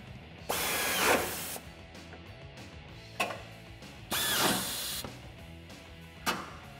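Power tool bursts drive bolts on bull bar mounting brackets of a 2015-2019 Toyota Tacoma with a 14 mm socket, several loud whirring runs separated by short pauses, with no voices.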